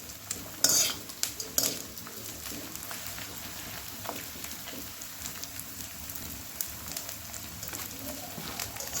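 Something frying in ghee gives a steady crackling sizzle like light rain, with a couple of sharp clanks of a utensil on the pan early on, close up.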